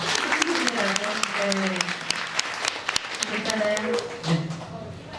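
An audience at a press briefing in Los Angeles applauds with steady clapping, while a person speaks briefly over the applause.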